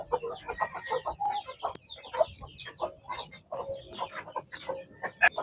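Chickens cluck continuously in a backyard flock at feeding time, a busy overlapping chorus of short calls close to the microphone, with an occasional louder squawk and no talk.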